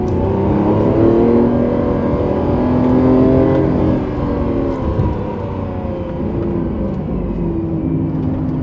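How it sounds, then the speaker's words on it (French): New Lamborghini Countach V12 engine accelerating on the road, a loud, sustained engine roar heard from inside as the revs rise and ease, with steady road noise and no talking. "On va rouler un peu plus fort. Je vous laisse profiter du V12."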